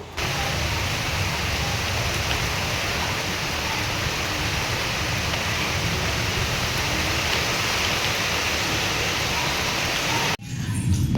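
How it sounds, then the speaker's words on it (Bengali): A storm with heavy rain pours down in a steady, broad wash of noise that stays even and loud throughout, then drops away abruptly near the end. "সবে মাত্র ঝড়টা শুরু হয়েছে"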